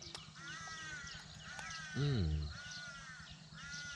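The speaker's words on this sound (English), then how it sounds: "I'm listening to those crows over there" Crows caw several times from a distance, their harsh calls repeating over a steady background hum.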